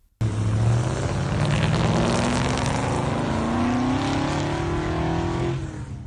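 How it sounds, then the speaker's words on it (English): Replica Bathurst touring race cars from about 25 years ago launching down a drag strip in Whyalla, a loud continuous engine roar with rising tones as they accelerate, close by and with no talk over it. "drivers had the opportunity to really put the pedal to the metal at the city's drag strip."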